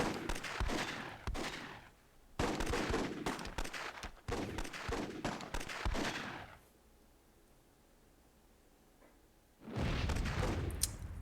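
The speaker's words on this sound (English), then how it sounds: "Close cannon shot there" Bursts of WWII-era cannon and gunfire from the Myth II Soulblighter game come in dense, loud volleys separated by a quiet gap, then another blast near the end.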